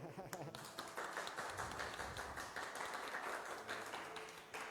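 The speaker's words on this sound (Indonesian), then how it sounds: "Sekali lagi saya ingin tepuk tangan untuk Pak Heli" Applause for Pak Heli Rofikun, village head of Karangrejo, Borobudur, at a live-streamed talk event: a steady, moderately loud patter of clapping that runs the full stretch, with voices murmuring underneath.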